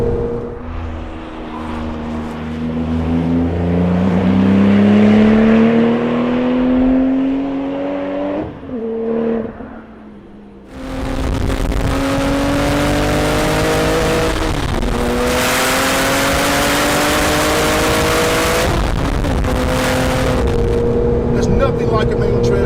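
Porsche race car engine revving hard on track, pitch climbing through the gears with sharp blips and drops at downshifts, loud and close, constant throughout with no talking.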